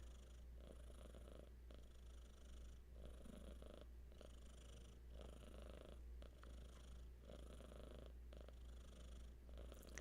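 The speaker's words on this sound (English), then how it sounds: "So many of you have heard my cat's purring." A house cat purrs steadily and close by for about ten seconds, a soft continuous rumbling with regular breathing pulses and no voices.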